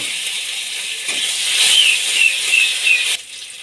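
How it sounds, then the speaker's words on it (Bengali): Chopped tomatoes hit hot oil already frying bay leaf, a dried red chilli and cumin seeds, giving a steady close sizzle and hiss that swells midway, then drops slightly near the end. "এর মধ্যে আমি কেটে রাখা টমেটো কুচি দিয়ে দিলাম"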